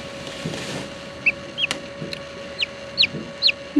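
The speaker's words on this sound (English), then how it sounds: "that chicken is starting to hatch" A newly hatching baby chick peeps from its egg with several thin, high chirps at irregular intervals over a quiet room hum, close and clear.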